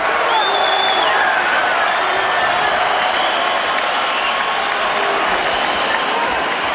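A large boxing crowd cheers and applauds continuously during the Lennox Lewis versus Vitali Klitschko fight, a dense roar of clapping and shouts with scattered whistles and whoops, loud and sustained.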